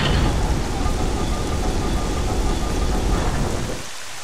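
Heavy, steady rain from The Legend of Zelda: Twilight Princess video game, a dense loud downpour with low rumbling that holds throughout, then drops away sharply near the end.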